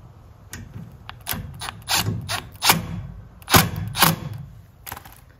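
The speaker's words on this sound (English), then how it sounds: "the instructions say to go ahead and fully tighten these" Bolts on an elliptical trainer being fully tightened with a ratchet, irregular bursts of clicking, some short and some longer, close by with no talking.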